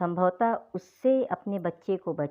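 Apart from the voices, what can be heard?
No distinct noise like a dog, phone or traffic.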